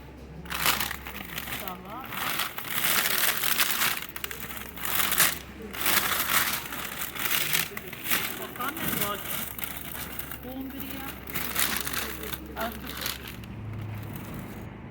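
A plastic shopping bag crinkles and rustles in bursts in a shop, with people talking over it and a low hum running underneath.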